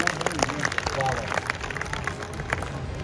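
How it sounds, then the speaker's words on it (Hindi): An audience claps at a Haryanvi comedy poetry show, a scattered burst of applause at moderate distance, mixed with crowd murmur and some talking. "थोड़ी बहुत तालियां बची होते को बजा दो"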